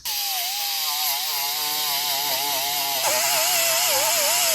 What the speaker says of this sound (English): Now I'm gonna go ahead and sand down this to bare metal